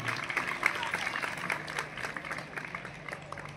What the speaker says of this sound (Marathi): या सगळ्यांसाठी एका जोरदार टाळ्या झाल्या पाहिजे